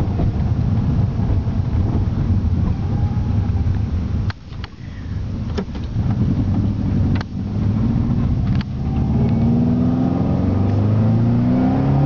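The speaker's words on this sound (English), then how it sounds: "This is wide open throttle." A Subaru EJ20G engine with an exhaust leak and a holed piston runs at wide open throttle in a moving car, a loud, continuous engine roar mixed with wind rush, broken by a few brief dips, with no talk.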